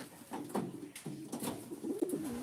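Racing pigeons in a loft give soft, repeated low cooing calls in several overlapping bursts, close by and steady, with no talk over them.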